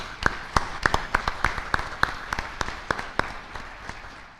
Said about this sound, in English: Please go ahead and give them a round of applause.